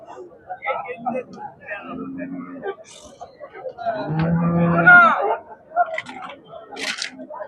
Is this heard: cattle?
yes